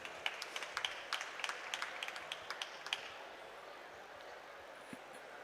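Audience at a COP27 youth adaptation awards ceremony applauding a winner, a sparse scatter of distinct claps at moderate distance that thins out after a few seconds into quiet room tone.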